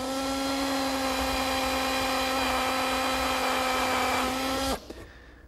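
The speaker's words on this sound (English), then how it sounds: "that hole can just be drilled straight through" A power drill whines steadily at high speed for several seconds, close and loud, then abruptly stops.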